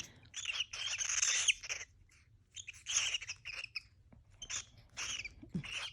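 An agitated pet bird lets out loud, harsh screeching calls in bursts, several long squawks separated by brief pauses, close by with no talking.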